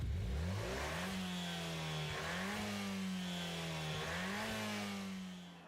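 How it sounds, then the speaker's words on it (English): Race car engine revving hard and loud in Gran Turismo Sport, an FIA Manufacturers Cup race, with sustained high-pitched howl rising and falling through repeated gear shifts, steady and close throughout. "As we get the crazy loud revving."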